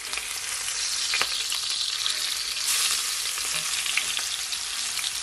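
A salmon fillet sizzles in a frying pan just after being flipped, giving a steady close crackling hiss with scattered pops and spits throughout, and no talking.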